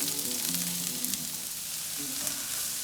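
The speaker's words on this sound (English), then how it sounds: "you're going to fry the first half of the onions for a seasoning" Onions frying in a small amount of oil for a Kenyan samosa filling, a steady close sizzle throughout with faint stirring, no talking.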